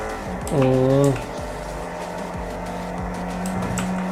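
Engine noise from a car driven through the city in GTA FiveM, running as a steady low drone with a brief louder rising rev near the start and occasional faint tire squeal. No one speaks over it.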